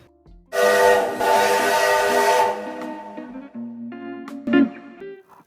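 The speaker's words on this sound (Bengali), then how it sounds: "আপনারা পার্কের ভিতরে দেখবেন একটা ছোট্টখাটো টয় ট্রেন" A small toy train ride in a park sounds off with a loud, sustained whistle-like horn over rumbling running noise, then fades into lower rolling clatter with a brief sharp burst near the end.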